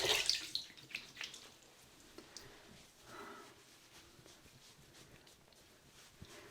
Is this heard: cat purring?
no